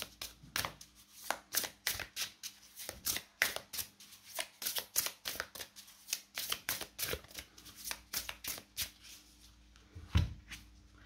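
Oracle cards from an awakened-soul deck are shuffled by hand in a long run of crisp, rapid riffling bursts, close and fairly quiet, with brief pauses between flurries.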